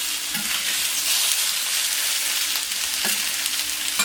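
Potatoes frying on a plancha heated near 200 degrees, a steady bright sizzle with a few soft scrapes and taps, close and continuous without speech.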